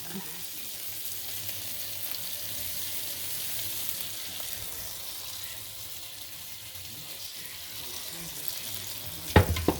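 Tap water runs in a steady, close hiss as bread is wetted for turkey stuffing; a few sharp clatters break in at the very end.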